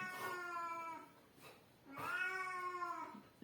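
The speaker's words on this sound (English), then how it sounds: "So yeah, let the cat meow." A domestic cat meows twice, two drawn-out, clearly pitched calls close to the mic with a short quiet gap between them, indoors with no talking.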